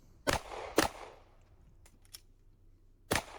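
Pistol gunshots at a USPSA shooting match, three sharp loud cracks spaced apart with a pair of fainter distant shots between them, outdoors with no talk.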